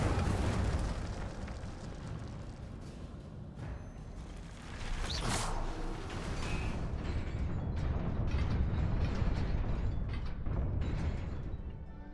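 The Incendio fire spell is cast in the video game Hogwarts Legacy, a roaring, crackling burst of flame over a continuous rumbling bed of game sound, loud and sustained throughout.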